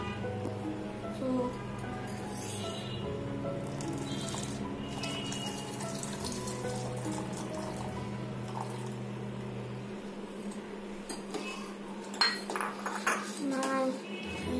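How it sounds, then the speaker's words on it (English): A spoon stirs custard mix into hot milk in a pan with the flame turned off, giving a steady, low background scrape that ends in a few clear metallic clinks against the pan near the close. "We'll stir this milk continuously"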